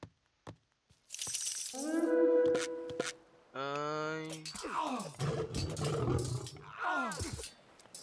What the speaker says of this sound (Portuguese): Este leão...